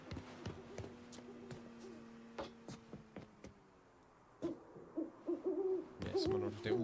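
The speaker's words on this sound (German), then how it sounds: "Ne, ist immer noch der Uhu." An eagle owl hoots in the Mafia III video game, low repeated hoots under faint game ambience with scattered clicks and footsteps, growing louder and more frequent toward the end.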